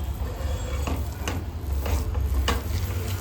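Raw mango chutney is stirred and fried on a low flame. A constant soft sizzle runs underneath, with a few scraping strokes of the spoon against the pan, close and moderately loud with no talking.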